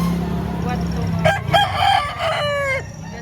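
A large rooster crows loudly and close at a chicken market in Lipa, Batangas, a single drawn-out call over a steady background hum of the market.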